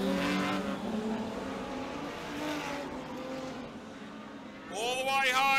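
Modified sedan race cars roar around a clay track during a racing final, engines droning and shifting pitch under steady race commentary, with a car revving loudly near the end.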